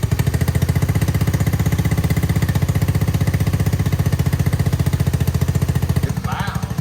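Honda Navi mini bike fitted with a cheap aftermarket exhaust, baffle still in, idling loudly after a cold start: a fast, steady single-cylinder putter close to the mic, with a brief voice near the end.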